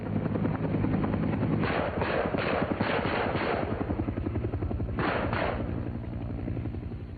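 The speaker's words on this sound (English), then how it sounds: "A second set of gunships is launched to replace the first pair, whose ordnance is about expended." UH-1 helicopter gunships flying overhead during a 1970 Air Force tactical operation, a loud, steady rotor thump with rhythmic blade chop and engine drone, with bursts of rapid percussive pulses standing out at intervals.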